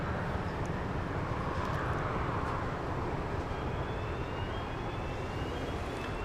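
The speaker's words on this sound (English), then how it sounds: "So I think the flight to El Paso now moving into position" An airliner rolls into takeoff position at Dallas Love Field, its engines giving a distant, steady broadband roar with a faint rising whine.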